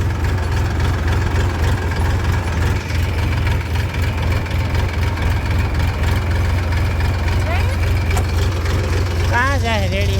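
A tractor engine idles with a deep, steady low rumble throughout, close and loud, with a brief human voice rising over it near the end.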